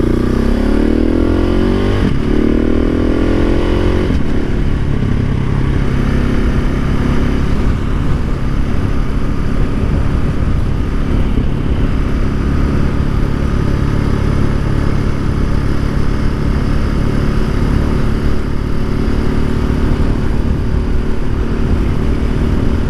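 A motorcycle fitted with a Wings exhaust, Rade intake and PCV rumbles continuously while riding, revving through a few gear changes at the start and then holding a loud, steady engine drone with wind noise.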